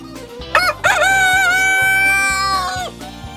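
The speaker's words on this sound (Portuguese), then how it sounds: "É uma raça de galinha" A Brahma rooster crows loudly and close by, one long drawn-out call after a couple of short clucks, over a faint background hum.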